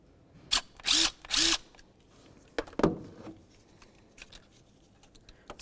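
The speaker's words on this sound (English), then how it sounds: "I'm going to go ahead and remove this bolt right here using a 7mm" A power driver with a 7mm socket spins out a bolt near the ignition coil module of a 2000-2005 Buick LeSabre, with three short whirring bursts followed by clinks and rattles of the loosened part, close.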